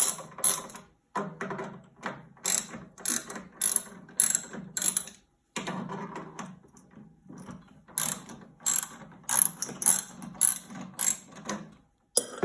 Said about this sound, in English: you'll require a 10mm wrench or socket, and you're going to remove the old Venturi